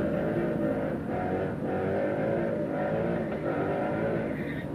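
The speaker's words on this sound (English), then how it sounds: "Carl Silson takes the win in the Miata." Drag racing on the strip with a 2013 Chevy and a 1999 Miata, a steady loud engine roar that holds nearly constant throughout, alone without talk.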